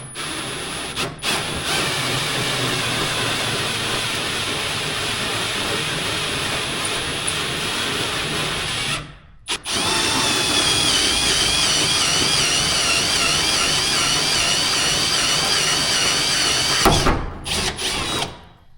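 A power drill bores through the hood of a Dodge Challenger with a loud, close, sustained whine, cut by two brief pauses, then a rising pitch as the bit works through the metal.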